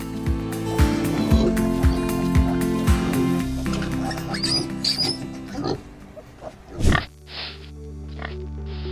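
Pigs on a large pork farm grunt and squeal over several seconds, mixed with a layered, musical-sounding background, with a sharp loud burst near the end followed by a steadier tone.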